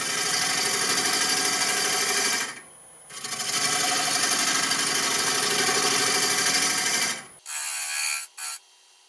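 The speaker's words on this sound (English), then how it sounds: "So my hollowing system is the Lyle Jameson hollowing rig, and I really like it" A maple crotch blank is hollowed on a lathe with a Lyle Jamieson hollowing rig and Hunter carbide cutter, a loud steady whirring scrape that stops briefly, resumes, then cuts off into short bursts.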